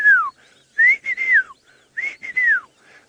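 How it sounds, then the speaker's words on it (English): Clear, high whistling calls from whistling ducks on a safari drive, several descending whistled notes in bursts, fairly close and loud against a quiet background. "we can hear the whistling ducks calling"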